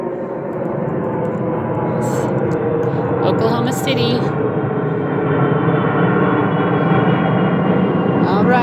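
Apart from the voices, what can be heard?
airplane flying overhead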